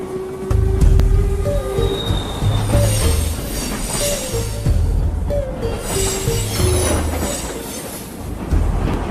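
A train runs along its rails, with repeated rhythmic wheel clacks, low rumble and high metallic squeals riding over it. It stays loud and close throughout, with no talk.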